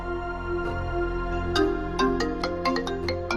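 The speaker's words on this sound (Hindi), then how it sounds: "आप ये बताएं किसका फोन आ रहा है बार बार?" A ringtone chiming repeatedly on a mobile phone indoors, a rising melodic pattern of bright tones that grows more insistent partway through, with no talking over it.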